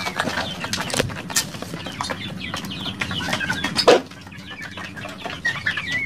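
Black Australorp and Rhode Island Red breeder chickens clucking and calling nearby in an outdoor farmyard, with scattered rustling and brief wing flaps, a busier stretch of sounds early on and a sharper burst near the middle.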